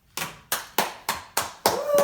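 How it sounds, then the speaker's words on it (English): An audience clapping for a cameraman, heard as six crisp, evenly spaced claps ringing out close and loud, the last blending into a brief cheer. "Everyone clap for the cameraman."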